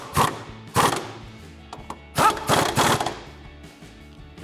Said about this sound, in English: And we'll tighten them down with our 18 millimeter socket.